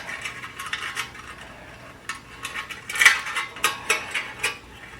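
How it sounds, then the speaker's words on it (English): Recoil starter spring of a Toro lawn mower being gently let unwind by hand, a series of light metallic clicks and ticks, close and irregular, growing busier toward the end. "So I'm just trying to very gently let this spring unwind."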